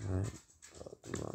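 A dog gives a short low growl and snuffle close by, heard briefly under a man's speech.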